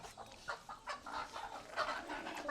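Village hens cluck repeatedly close by, a series of short clucks in an irregular rhythm, with no talking.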